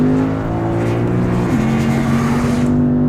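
A Lexus RC F or BMW M4 sports car engine drones loudly and steadily under load, its pitch dipping briefly at a gear change midway before pulling on evenly.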